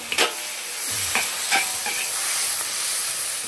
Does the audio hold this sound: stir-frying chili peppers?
yes